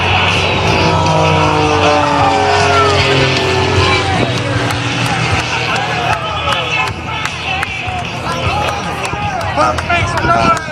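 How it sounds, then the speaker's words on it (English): Jet-powered Flash Fire truck spooling up its engine at an airshow, a loud continuous roar with a rising whine and crowd noise throughout, while an announcer talks over it. "Neil Darnell, the flash fire jet truck, spooling up the engine now"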